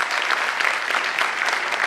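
A university audience gives a full round of applause for a former Novartis CEO, a steady wash of many hands clapping at once, even and close throughout.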